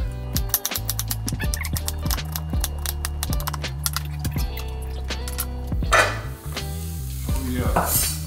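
Onions sizzling in olive oil in a heated skillet, a constant crackle and hiss under a steady low hum, swelling into a louder burst of sizzling near the end.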